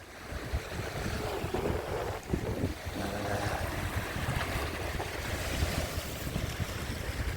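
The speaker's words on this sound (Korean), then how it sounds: "지금은 예, 북동풍이 많이 불고 있네요." A strong northeast wind roars over the microphone at Yeongjin Beach while surf rumbles steadily beneath it, a continuous, broadband wash of wind and waves with no speech.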